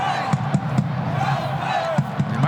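A rugby league stadium crowd at a Saturday match of the Gold Coast Titans against the South Sydney Rabbitohs, a steady broad roar of many voices with a few rising shouts and thumps.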